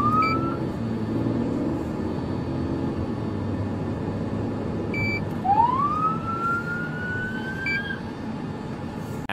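A police siren wails from a distance over a steady rumble of traffic, rising in a few upward sweeps with short gaps between them.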